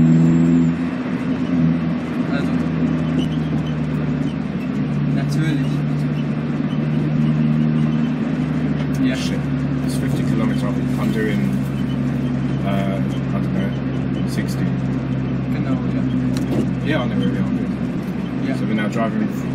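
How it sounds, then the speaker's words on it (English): Car driving around the Nürburgring complex, a steady loud engine drone and road noise from inside the cabin with a driver talking over it almost throughout. "this is what it's like driving around the complex"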